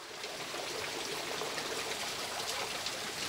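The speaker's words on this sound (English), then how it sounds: "As the wheel turns, water rushes into the chambers through the triangular holes." Water rushes and splashes into the chambers of a Roman treadwheel water-lifting wheel, a dense continuous broadband gush at moderate level with no voices.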